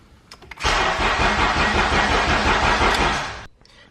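A CL7/CL9 Honda/Acura TSX fitted with a new ECU and Hondata fires up nearby with a loud, sudden start, runs roughly for about three seconds, then cuts out, leaving quiet.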